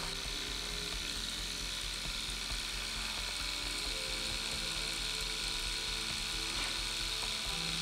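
A Vlad Blad Seawolf hybrid rotary tattoo machine runs at raised voltage with a steady, fast mechanical whir and buzz close to the microphone, without talking.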